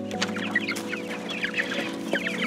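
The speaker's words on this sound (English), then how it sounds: "Let's go outside and look at the turkeys and chickens." Chickens on a homestead clucking close by in a short, busy burst of overlapping clucks and calls, with no talking.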